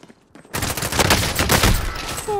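Gunshots in a video game: a sudden loud blast that breaks into a dense, rattling volley of rapid fire lasting a couple of seconds before trailing off, with faint tonal game sounds at the edges.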